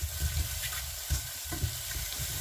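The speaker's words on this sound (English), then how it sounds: "Then I fry it around for around a minute." Garlic and ginger sizzle in hot olive oil in a pan, a steady close frying hiss broken by soft irregular stirring scrapes.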